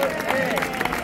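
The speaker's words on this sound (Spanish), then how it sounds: "Vamos a darle un aplauso, hombre." A short burst of crowd applause at a traditional Verdiales folk music contest, thick and close, with a voice faintly audible through the clapping.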